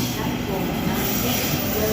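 A Sydney Trains B set on the Leppington service rumbles steadily at Central station, a broad, continuous roar close by with no breaks.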